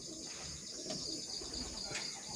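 A checkered white flight racing pigeon coos after homing, soft repeated coos over steady background noise.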